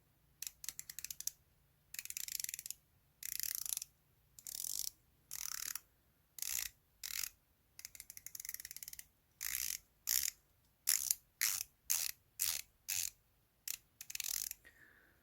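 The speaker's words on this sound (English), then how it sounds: "Now let's check out the all-important bezel rotation. So 120 click unidirectional bezel." Unidirectional 120-click bezel on a Phylida 500M Sea Dweller homage watch being turned, a rapid series of crisp ratcheting clicks in short bursts with brief pauses, close and fairly quiet.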